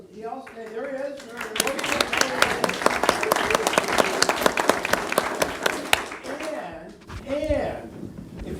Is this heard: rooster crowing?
no